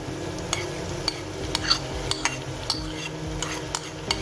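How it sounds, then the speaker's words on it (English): Prawns being stirred into a pan of potato and okra, with light regular scrapes and clinks of a utensil against the pan every half second over a soft sizzle, close and fairly quiet, with no talking. "Now I'm gonna add in the prawns."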